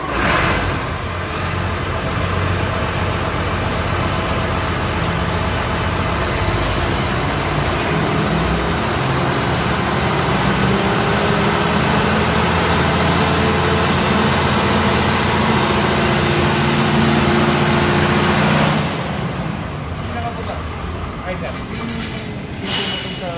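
A 250 kVA diesel generator set runs steadily and loudly nearby, a dense continuous engine drone with low harmonic hum, holding for nearly twenty seconds before dropping away; voices talk over it in places.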